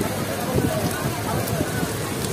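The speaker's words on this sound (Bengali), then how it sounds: "এত বৃষ্টির মানে আবহাওয়া খারাপ।" Heavy rain patters in a dense, steady hiss during a journey on the Ganadevta Express train, close and unbroken throughout.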